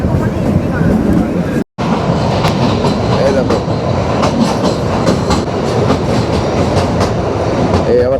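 A Kalka–Shimla toy train rumbles steadily through hill tunnels with a rhythmic clickety-clack of wheels on track, loud and close, broken by one brief dropout.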